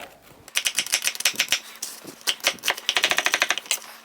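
A knife dices vegetables on a cutting board while soup is being made, giving quick, rhythmic, clattering chops in close, steady bursts with no talking.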